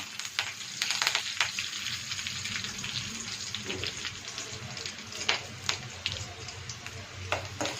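Curry leaves drop into hot oil for a capsicum masala and set off a steady, hissing sizzle with sharp crackles and pops throughout, fairly quiet and close.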